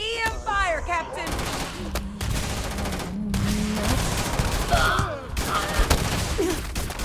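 EM weapon fire during a Starfield battle against a Terrormorph, with rapid bursts of shots and crashing impacts running almost nonstop under game noise, music and voices shouting.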